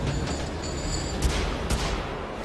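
Enemy gunfire in Wolfenstein: The Old Blood rumbles as a dense, continuous barrage, with a couple of sharper cracks standing out midway, fairly faint and steady throughout.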